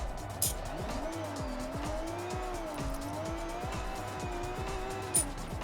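Car tires squeal under handbrake in Forza Horizon 6, a wavering pitched screech over steady engine drone through a racing game, with brief sharp bursts near the start and end.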